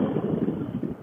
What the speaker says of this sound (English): A little windy out today.